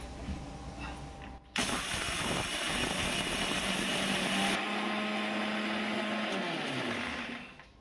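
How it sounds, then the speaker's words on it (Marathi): A mixer grinder starts abruptly after a quiet moment, whirring loudly and steadily as it grinds dry fruits into a fine flour, then winds down at the end. "आता यांना आपण मिक्सरच्या भांड्यात टाकून एकदम बारीक पीठ करून घ्यायचं आहे"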